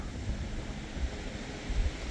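Surf and wind on the Baltic beach at Świnoujście at midday in early November: a steady low roar of breaking waves with gusty wind noise over the microphone and a few stronger swells, and no voices.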